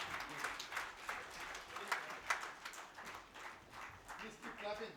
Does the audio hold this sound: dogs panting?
no